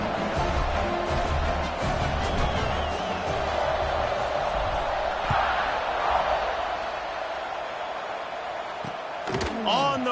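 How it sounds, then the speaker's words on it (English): Stadium crowd in College Football 26, Kentucky at Alabama, buzzing steadily as a dense roar after a touchdown, with a few thuds and brief louder bursts near the end. "this crowd is buzzing after that last score"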